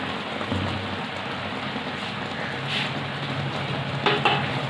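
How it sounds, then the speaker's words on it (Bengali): Eggplant curry bubbling and simmering in a covered pan on a gas stove, a steady broadband hiss like light rain with faint soft pops throughout, close and even, no talking. "কি সুন্দর ফুটছে দা"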